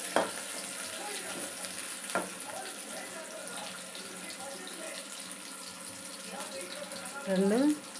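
Onions fry in hot oil in a pan for a ridge gourd chutney, giving a steady soft sizzle throughout with occasional clinks of a utensil and a brief louder stir near the end.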